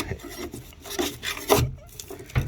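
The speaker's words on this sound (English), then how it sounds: "I found the easiest way is the scraper and getting down the back of it" A hand scraper works expanding foam off the back of a VW T4 van panel, giving irregular scratchy rubbing strokes, close and moderately loud, with no talking.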